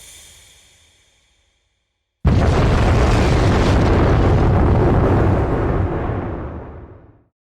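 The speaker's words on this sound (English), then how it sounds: "You telling me that the shield blocked out a fucking explosion of that caliber?" Loud explosion from an anime scene, a sudden massive boom bursting out of near silence and roaring on for about five seconds before slowly fading away.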